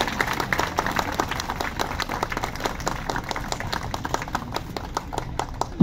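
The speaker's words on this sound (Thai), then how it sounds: "ขอเสียงปรบมือให้" Steady applause from an audience, many hands clapping in a dense rolling patter that continues without voices.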